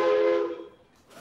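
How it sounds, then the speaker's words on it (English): A steam train's whistle sounds far off as one sustained, slightly wavering tone that fades away within a second, followed by a short faint noise at the end. "It sounds like a steam train in the distance."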